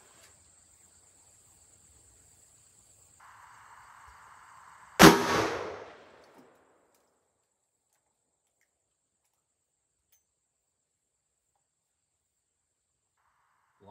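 A single loud gunshot from a Ruger GP100 revolver with a 5-inch barrel, firing a .357 Magnum 110-grain Hornady XTP round into a gel block outdoors. The sharp crack is followed by a short decaying echo, with faint insect buzz before it.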